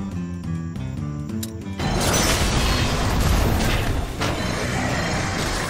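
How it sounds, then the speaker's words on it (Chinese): A stone blows up in the mobile game Lineage M. After a short stretch of steady melodic game music, a loud, dense burst hits and holds as a thick, crashing, rumbling roar to the end, with no talk. "这个石头爆炸，等一下会变那个龙卷风"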